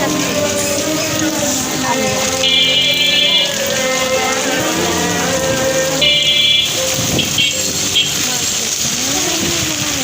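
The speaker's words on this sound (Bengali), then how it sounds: "কি বৃষ্টি পড়তেছে গাইস" Heavy rain pours down in a loud, unbroken wash, with people talking and other sounds mixed in throughout.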